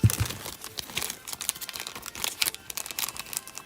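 Trading cards are popped out of plastic sleeves close by, giving a continuous run of crisp crinkles, snaps and plastic rustles with no talking.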